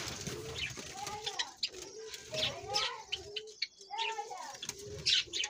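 Caged Java sparrows give soft, repeated chirps and short warbling calls, faint and close, with a little quiet background talk.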